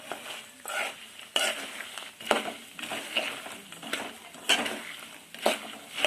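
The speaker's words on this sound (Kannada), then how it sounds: "ಹುರುಕು ಅನ್ಬೇಕು ಶೇಂಗಾದ ಕಾಳು, ಅಲ್ಲಿವರೆಗೂ ಹುರ್ಕೋಬೇಕು ಲೋ ಫ್ಲೇಮ್ ಒಳಗೆ ಇಟ್ಕೊಂಡು" Peanuts stirred in oil in a pan over a low flame, roasting with soft sizzling and a repeated scraping, rattling rhythm of the spoon moving the nuts around, moderately close and without speech.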